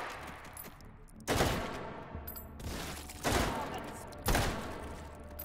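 Three loud bursts of automatic gunfire from a 20-round full-auto rifle in the virtual reality shooter game H3VR, each sharp volley spaced about a second apart over steady background game noise.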